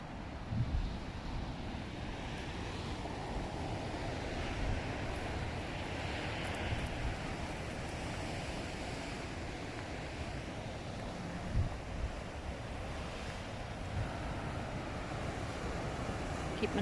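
Waves wash steadily onto a Thai seashore with constant wind rumbling across the microphone, a dense, unbroken roar with occasional small surges.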